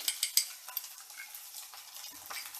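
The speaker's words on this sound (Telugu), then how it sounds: "వేసుకున్న తర్వాత మంచిగా ఫ్రై చేసుకోండి" Okra pieces frying with salt and turmeric in a pan for Telugu-style bendakaya fry, a soft steady sizzle with stirring scrapes and a few sharp clinks early on, close and alone.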